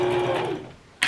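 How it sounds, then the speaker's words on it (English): Sewing machine running a top stitch along the folded edge of a fabric tube for a scrunchie, a steady close whir that slows and stops partway through, followed by a brief sharp clatter at the end. "I am going to top stitch all along the folded or the open edge basically"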